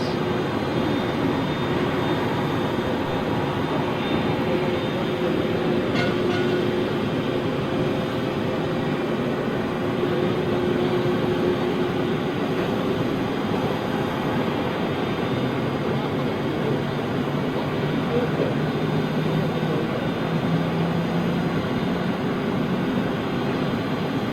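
A KLM Airbus A330 jet at Schiphol airport, heard as a loud, continuous engine roar that holds steady throughout with no talk over it.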